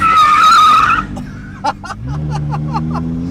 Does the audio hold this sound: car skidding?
yes